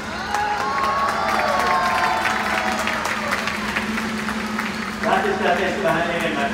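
A live audience at a stage show cheers and applauds steadily, a dense, loud wash of clapping and shouting voices, with a brief surge of excited cries near the end.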